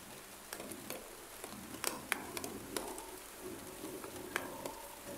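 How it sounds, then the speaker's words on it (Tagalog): Steady rain patters on surfaces outdoors near mausoleums in a cemetery, a soft continuous hiss dotted with scattered louder drips, fairly faint and with no talking. "Hindi pa ako pwedeng lumusong sa ulan"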